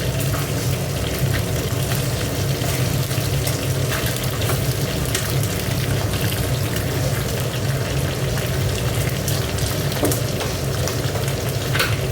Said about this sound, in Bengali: এখানে একটু জিরে ফোড়ন দিয়ে দিলাম আর একটু তেজপাতা দিয়ে দিলাম।